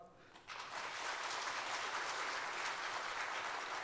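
Congregation applause at a church awards ceremony during a Sunday service, clapping swells in suddenly after a brief quiet moment and holds steady and fairly loud to the end.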